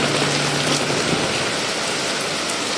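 Heavy typhoon rain from Super Typhoon Yagi in Macau, a dense, continuous hiss of downpour, loud and close, with no voices.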